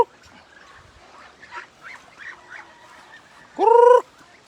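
Ducks at feeding time in a nature park give a series of soft quacks, then one loud, close honking call near the end, with no talk over them.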